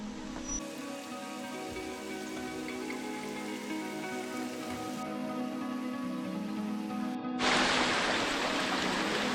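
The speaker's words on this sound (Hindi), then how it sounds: "ये देख रहे हैं चारों तरफ बहता हुआ ये प्राकृतिक वाटरफॉल" A natural waterfall on the Brahmagiri mountain trek near Trimbakeshwar, Nashik, roars as a steady, loud broadband rush of falling water that swells slightly louder toward the end, with no voices.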